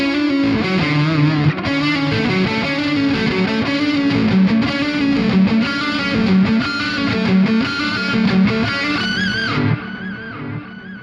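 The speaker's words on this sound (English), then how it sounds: "Let's go ahead and add some reverb and delay to that." Distorted electric guitar playing chords and notes through a Walrus Audio reverb and delay, washed with reverb and echoing delay repeats, loud and continuous, ending in a ringing tail.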